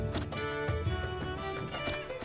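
Hooves clip-clop steadily over a layered electronic music bed, with a horse sound blended into the busy game-style mix of Attack on Titan 2.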